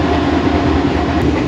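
Inside Luxor railway station in Egypt, a train makes a loud, dense, steady roar and rumble at close range, sustained without pause and with no speech over it.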